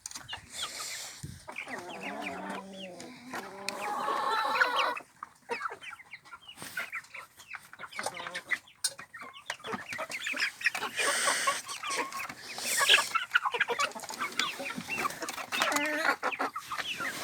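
Several Kazakh local-breed hens cluck and squawk close by, busy overlapping calls with brief pauses and a little background rustling.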